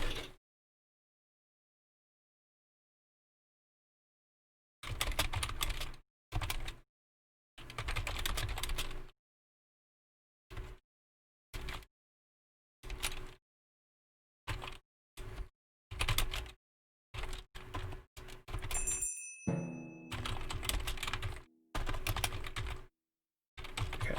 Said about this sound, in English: I'm just typing out my announcements for the stream for next week